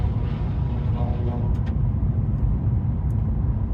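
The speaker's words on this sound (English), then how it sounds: "we're cruising along right now at 60 miles an hour" Car cruising on a road at 60 mph, a steady, loud low rumble of engine and tire noise from inside the cabin, continuous throughout with a voice talking over it.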